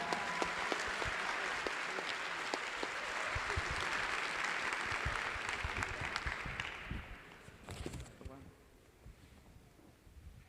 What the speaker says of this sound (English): Big round of applause to our ECE team